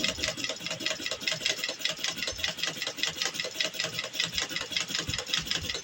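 A domestic sewing machine stitches thin fabric with thin thread, a fast, even, rattling chatter of needle strokes running steadily and close throughout.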